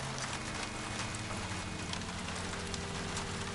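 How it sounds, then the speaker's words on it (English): Steady rain falling in the video game L.A. Noire, a dense continuous patter with a low steady hum beneath it, loud and unbroken throughout. "It's raining, raining."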